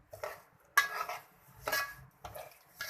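Semolina tipped into ghee in a pan for suji halwa, heard as a few separate metallic scrapes and clinks of a spoon against the pan, quiet and close, with no sizzle and no talking.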